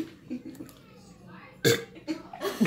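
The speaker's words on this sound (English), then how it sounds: "And then you have to burp" A loud, close burp after chugging a drink, preceded by quiet chatter from young people and followed by another short burst of voice.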